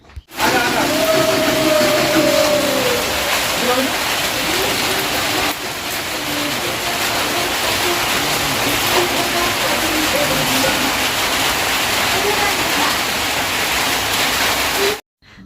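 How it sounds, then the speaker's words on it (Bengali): Heavy rain pours onto the roof of a hut at night, a loud, dense, unbroken roar of drumming water that fills the whole stretch evenly. "রাতের এই কুড়ে ঘরে চালে বৃষ্টির আওয়াজ শুনতে কিন্তু দারুণ লাগে"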